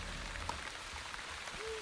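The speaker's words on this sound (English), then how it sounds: "Oh, it's raining." Steady, soft rain falls in the video game The Wandering Village, a continuous broadband patter with faint scattered drops and a brief tonal chime near the end, with no talking.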